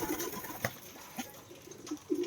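Soft pigeon coos from flying pigeons eating moringa leaves come in short low bursts close by, separated by brief pauses, with faint background noise and no talking.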